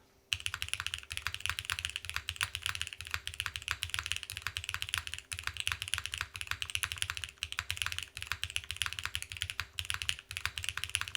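Steady typing on a Keycult mechanical keyboard with a Nixie spacebar and full treble keys, a dense stream of quiet, close clicks and clacks, with no other sound.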